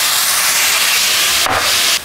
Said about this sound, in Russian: Делаем огонь побольше и выливаем наше варенье в сковороду, где жарилась печень.